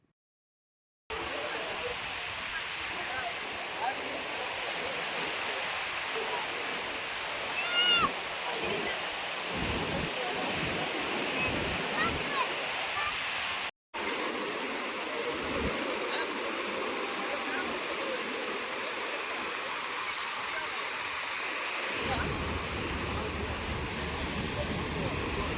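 Sea waves wash steadily onto Murudeshwar's main beach at sunset, a continuous broad surf roar at moderate distance with a brief dropout midway.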